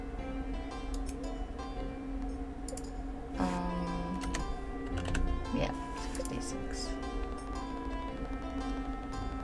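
Keys tapped on a computer keyboard during a modded Stardew Valley session, quiet scattered clicks and short bursts of typing under game music and a speaking voice.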